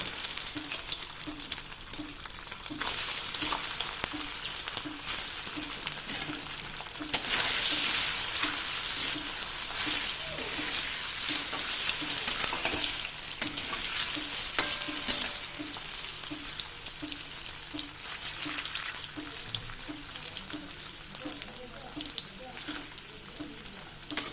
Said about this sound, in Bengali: পনির ভেজে তুলে নেব।